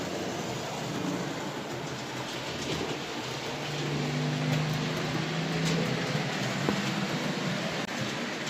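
A Hornby model train with re-wheeled old Tri-ang stock runs round the layout track, giving a steady, continuous rolling rumble with a faint hum throughout, close and fairly even, with no talking.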